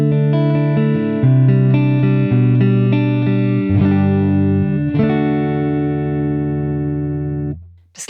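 Guitar notes plucked with a thick 3 mm pick, sounding dull and rounded, a few sustained chords ringing out one after another with effects.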